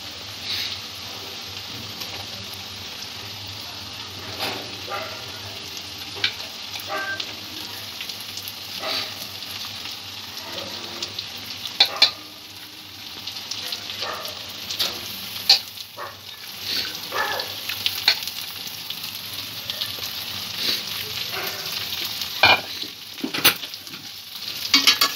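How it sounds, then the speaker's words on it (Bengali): Vegetables for crispy noodles fry and sizzle steadily in a pan over medium heat, with scattered stirring clinks and scrapes punctuating the continuous hiss throughout. "সবজিগুলো এবার আমি ভাজা হতে দেব।"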